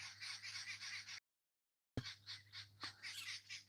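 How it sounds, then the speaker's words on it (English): Birds called cat laughers calling outdoors, repeated rhythmic cackling calls at moderate distance, with a brief silent gap midway. "I don't know if you can hear the birds."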